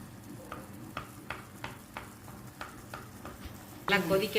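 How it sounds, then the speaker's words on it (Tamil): A spoon scrapes rhythmically around a pan while tamarind gravy with brinjal bubbles and sizzles underneath; a louder burst of sizzling rises at the end. "நல்லா கொதிக்க ஆரம்பிச்சிருச்சு. ஆமாம், கிண்டி விடணும்."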